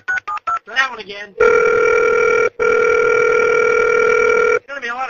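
A telephone dial tone hums steadily and loudly for several seconds, broken by one short gap, with brief choppy tones and a voice at the start and end.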